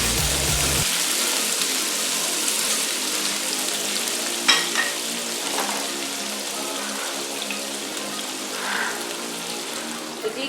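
Chopped onions sizzle steadily in hot oil in a pan for a bitter gourd and onion curry, a continuous dense crackle with a few louder spatters and stirs, close and alone.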